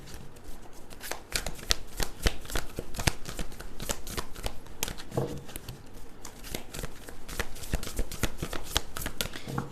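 Tarot cards being shuffled in a steady run of crisp riffling bursts and soft slaps, close and fairly loud, carrying on for the whole stretch with no talk over it.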